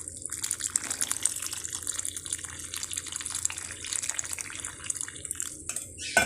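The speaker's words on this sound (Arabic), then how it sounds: "نجيب بقى ميه ونزوده ماشي" Water poured into a cooking pot of fava beans, a close, bright splashing stream with some dripping that runs steadily and tapers off near the end, with no talking.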